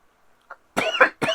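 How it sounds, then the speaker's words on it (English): A man coughing close to the mic, with a soft throat sound first and then two harsh, loud coughs in quick succession. "damn it, this cough thing."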